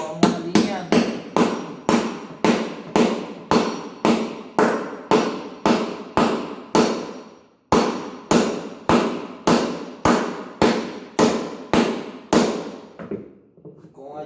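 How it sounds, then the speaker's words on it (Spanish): A hammer strikes a bearing into place on a Mabe front-load washer in a steady series of sharp metallic blows, about two per second, with one short pause midway and no talking. "con ayuda del martillo lo vamos alineando"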